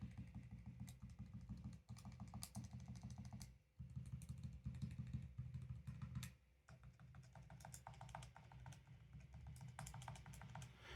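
Buttons on an Anbernic RG40XX V handheld console are pressed in quick runs of soft, muted clicks, close and fairly quiet, with brief pauses between bursts.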